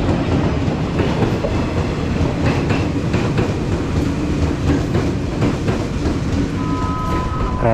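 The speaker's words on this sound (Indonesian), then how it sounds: "Kita naik kereta KRL ini ya teman-teman." An electric commuter train (KRL) in Indonesia rumbles steadily along the rails with rhythmic clicking and wheel noise, loud and close, continuous throughout.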